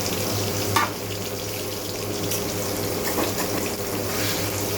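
Paneer frying in a pan, a steady loud sizzle running throughout with a brief clink near the start and no voices.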